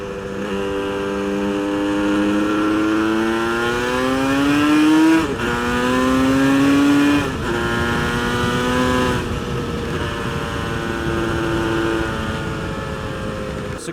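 A built Yamaha RD350 cafe racer two-stroke motorcycle accelerating hard through the gears on the street, loud rising engine whine with distinct pitch climbs and brief drops at each shift, heard up close and continuous.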